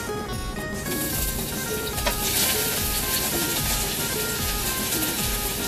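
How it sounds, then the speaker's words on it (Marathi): Green chilli and onion hit hot oil with a loud, dense sizzle that spits and crackles continuously at close range, with no voices over it. "माझं तेल तापलंय. आपण याच्यात टाकूया मिरची आणि कांदा."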